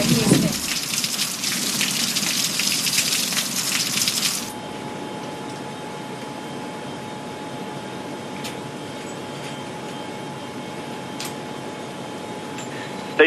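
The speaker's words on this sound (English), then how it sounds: "It's a beautiful rainy day here in Houston." Steady rain falls on a rainy day in Houston, a dense close hiss for about four seconds before dropping to a quieter, softer patter.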